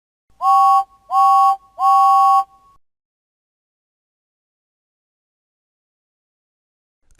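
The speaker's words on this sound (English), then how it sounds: "And he tooted 3 times on his whistle." A train engine's whistle in a Thomas and Friends video game toots three times in quick succession, loud, clear and evenly spaced, followed by silence.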